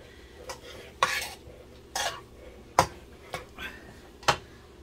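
A utensil stirs and turns shrimp fried rice in a pan, giving a series of distinct scraping, clattering strokes about once a second, close and moderately loud over a faint sizzle.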